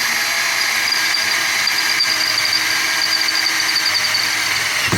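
A power drill spins a bit against a steel vise, giving a continuous high, strained whine with grinding vibration that holds steady and loud throughout.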